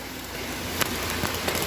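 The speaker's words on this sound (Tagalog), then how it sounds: "Sa lakas ng ulan." Heavy rain pours down at a beach resort in San Felipe, Zambales, making a steady, dense hiss of water with no breaks and a few faint knocks mixed in.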